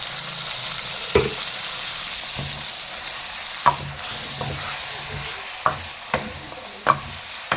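Chicken karahi fries in oil with onion paste added, a continuous close sizzle broken by about half a dozen sharp scrapes and knocks as a spoon stirs the pan.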